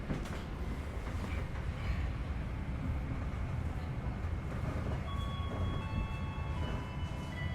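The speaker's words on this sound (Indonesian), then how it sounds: "Ternyata di sini menyusul kereta angkutan barang ya teman-teman" A container freight train rolls past on the railway, heard as a steady, loud rumble and rattle of wagons passing close by, with faint high tonal squeals toward the end and no talk.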